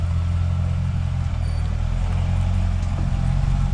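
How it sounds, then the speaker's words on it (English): A C6 ZR1 Corvette with a modified exhaust idles with a deep, steady low burble, close and fairly loud, holding even throughout with no voices. "you could probably hear all the burbling and stuff"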